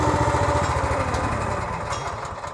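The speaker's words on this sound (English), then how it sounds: "so the engine just died" The small engine on a Wolfe Ridge 28C log splitter, starved of fuel, chugs with a rough, pulsing throb that weakens slightly toward the end.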